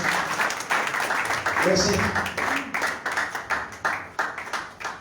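A church congregation claps and applauds in loud, fairly rhythmic bursts while a voice speaks over the clapping.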